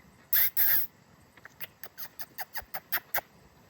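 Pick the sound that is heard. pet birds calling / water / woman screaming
pet birds calling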